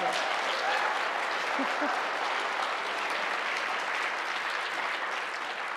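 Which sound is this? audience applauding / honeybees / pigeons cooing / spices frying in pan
audience applauding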